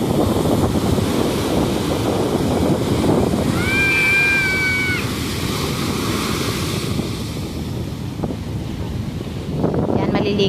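Ocean waves at a beach in Zambales, a constant roar of surf under heavy wind buffeting on the microphone, with a brief high whistle-like tone in the middle and no voices.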